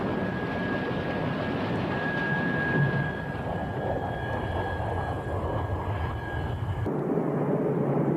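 A MiG-29 fighter jet on takeoff gives a loud, continuous jet roar with a thin whine above it, holding steady before cutting abruptly to a duller rumble near the end.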